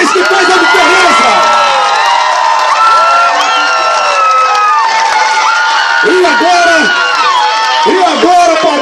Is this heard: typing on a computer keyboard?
no